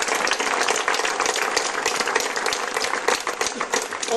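Theatre audience applauding after a comedy, a thick continuous wash of many hands clapping at close range, steady and even from start to end with no voices over it.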